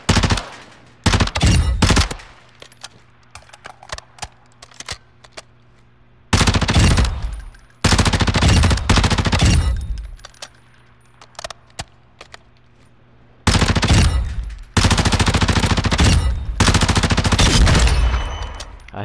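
Tempus Razorback rifle fire in Call of Duty: loud, close bursts of rapid automatic shots, each a second or two long, separated by quieter gaps, with no talking.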